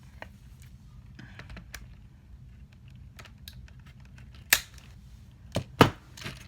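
Plastic zip ties being trimmed during a DIY build of hanging cork logs, a few scattered small clicks followed by two sharp, loud snips near the end, close up and with no talking.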